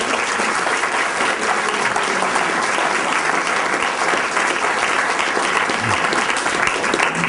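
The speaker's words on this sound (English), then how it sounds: "How about a round of applause for our speaker?" Sustained applause from an audience at a speaker series event, dense and steady throughout, loud and close with no voices over it.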